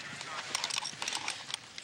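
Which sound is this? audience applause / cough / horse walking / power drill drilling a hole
horse walking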